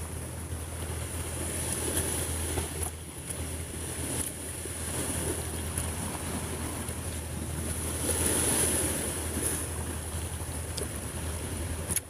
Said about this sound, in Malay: Kita di Kota Supai, dekat tepi laut, tepi pantai.